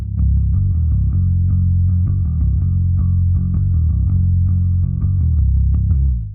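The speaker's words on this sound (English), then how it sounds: "the bottom end runs through a subtle octave and an Ampeg stack" A deep, distorted bass line played alone through a subtle octave and an Ampeg stack on a Darkglass Anagram, thick and sustained with a rumbling low end and shadowing octave below, notes changing in a steady groove.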